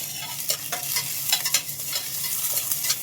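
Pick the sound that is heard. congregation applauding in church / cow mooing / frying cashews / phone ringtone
frying cashews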